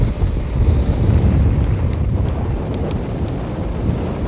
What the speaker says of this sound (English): Man, that is a gust of wind.